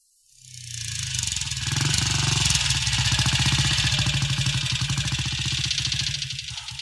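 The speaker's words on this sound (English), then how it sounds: "Harvey and Paul are on their way by motorbike to hear their friend Sonia Frank sing" A motorcycle engine starts up and settles into a loud, steady throbbing idle with a fast, even pulse, close by and alone.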